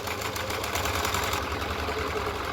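Sewing machine running a basic stitch along a folded fabric top seam for a joey pouch, a steady, close mechanical whir with a fast rapid rhythm, heard alone throughout.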